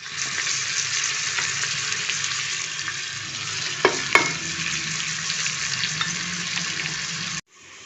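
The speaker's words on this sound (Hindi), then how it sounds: "अब ये गोश्त डाल के भूनना है।" Mutton sizzles steadily in hot oil with salt, sugar, chilli and garam masala for Pakistani pulao, a loud continuous close frying hiss with a couple of sharp clatters of the spoon midway, cutting off abruptly at the end.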